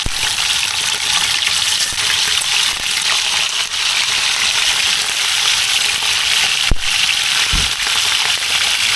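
Catfish frying in hot oil at a campsite, a loud, steady close-up sizzle and crackle of the oil that continues without a break.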